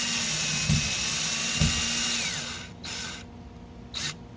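A power drill drives a stainless steel screw into a drywall anchor while repairing a BIC Open Skiff, giving a steady close whine with two brief thumps, then short separate bursts as the screw snugs down.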